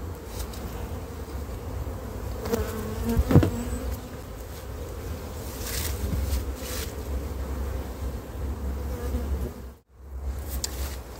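A dense, steady hum of many honey bees buzzing close by at a hive, with individual insects droning past the ear now and then.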